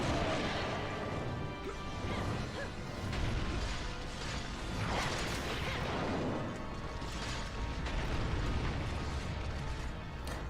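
Bombs detonating during a monster hunt in the Monster Hunter 3 video game, a dense, crashing roar of blasts and debris rumbling continuously, loud and close, with no clear gaps between impacts.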